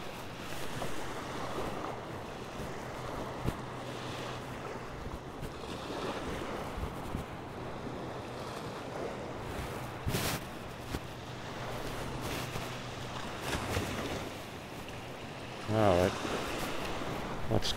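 Atlantic Ocean surf washing onto a Fire Island beach, a steady broadband roar of breaking waves mixed with wind buffeting the microphone, continuous throughout with a brief louder gust or rustle near the end.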